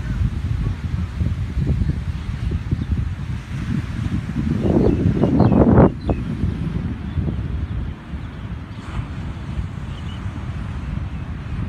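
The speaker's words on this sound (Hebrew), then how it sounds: "במיוחד שהרוח די נעימה" Wind blowing at a seaside dolphinarium on a somewhat stormy day, a steady low rumbling buffet against the microphone that swells into a stronger gust in the middle before settling back.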